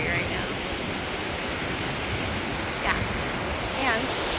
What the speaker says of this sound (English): Here I am in the ocean